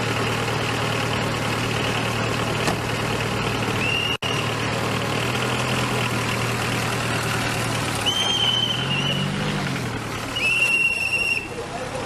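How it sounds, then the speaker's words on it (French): A whistle over idling engines and road traffic at a checkpoint, steady engine hum and traffic noise throughout, with a few short, shrill whistle blasts rising above it toward the end. "Il y a un sifflet ici. Circulation."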